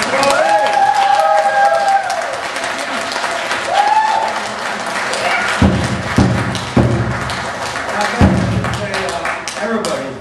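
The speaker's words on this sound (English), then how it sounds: "Let's give him a round of applause." A crowd applauds steadily throughout, with a few whoops and cheers rising over the dense clapping and some indistinct voices mixed in.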